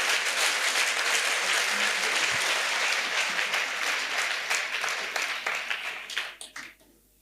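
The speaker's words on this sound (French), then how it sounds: "Let's clap to Jesus Christ." A crowd at an outdoor salvation, healing and deliverance crusade in Bafoussam applauds Jesus Christ, with dense sustained clapping that continues for several seconds and then thins out and fades away near the end.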